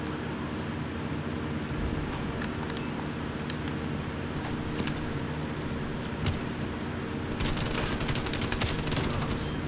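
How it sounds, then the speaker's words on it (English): Gunfire from an AK74u with Golden Viper camo in Black Ops Cold War, bursts of rapid shots over a constant noisy game background, with a denser volley toward the end. "I already unlocked the golden viper, that gunshot."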